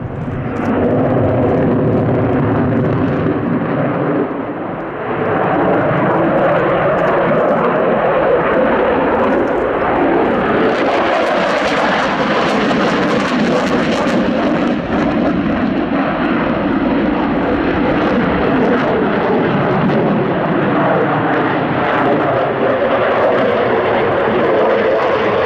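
A French Air Force Dassault Rafale fighter jet roars loudly overhead in a continuous, rumbling engine blast that holds steady for the whole stretch, swelling brighter and harsher midway as it passes close.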